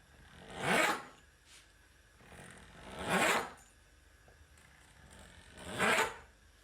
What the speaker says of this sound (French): Et là on va couper des bandes.